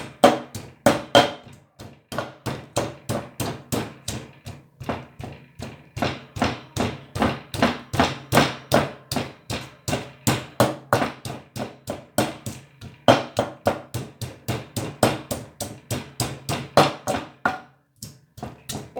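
Garlic cloves, six of them, pounded in a mortar for a ginger chicken karahi: a steady run of close, dull thuds, roughly two or three per second, continuing for nearly the whole stretch before a brief pause near the end.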